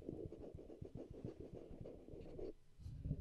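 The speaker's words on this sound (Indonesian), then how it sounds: "Kita coba untuk ketuk-ketuk si mikrofonnya." Rapid, soft tapping and scratching on a FIFINE K658 microphone, close and steady for a few seconds, then a short pause and a few more taps.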